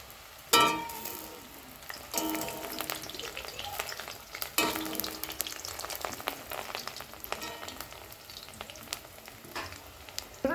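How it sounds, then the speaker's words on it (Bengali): Chushi pitha dumplings frying in hot oil in a kadai over medium flame, a steady close crackling sizzle throughout with occasional louder stirring clatters and splashes. "কড়াতে তেল গরম হয়ে গেছে এবার আমি চুষিগুলোকে আস্তে আস্তে দিয়ে দিচ্ছি"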